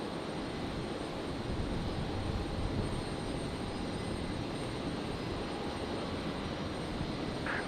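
Jet engines roar at Brisbane International Airport on a stormy Saturday night, a steady, loud, unbroken wash of broadband noise lasting throughout with no voices.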